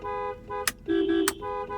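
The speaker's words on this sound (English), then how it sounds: "One of the cool things I think about the town and country horn is that you can make it seem like more people are honking" A 1991 Mercedes S-Class town-and-country horn blares in steady, close tones, broken by a brief gap and shifting to a deeper pitch midway, then back to the first tone, with no talk over it.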